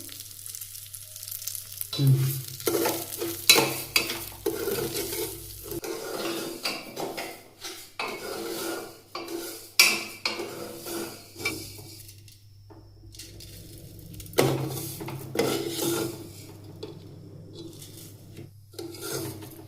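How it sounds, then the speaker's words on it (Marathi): Semolina roasting in ghee inside a pressure cooker over a low gas flame, giving a dry, gritty scraping as a spoon stirs it, in uneven bursts with a steady low hum underneath and no talking. "आपण त्याच्यामध्ये रवा टाकून घेऊया आणि बारीक गॅसवरच आपल्याला भाजून घ्यायचं आहे व्यवस्थित"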